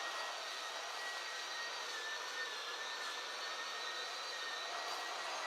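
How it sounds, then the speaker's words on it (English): A track saw rips along the edge of a large tabletop board in a woodworking shop, giving a steady, loud, even whine with no breaks or talk for the whole stretch. "And then I'll rip that edge with the track saw."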